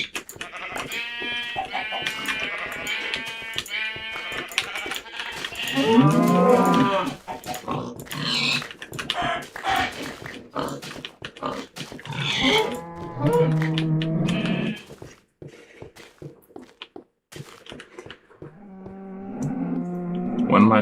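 Minecraft cows mooing repeatedly inside a player's house, several drawn-out lowing calls up close in irregular bursts with short gaps, game clicks and movement sounds between them.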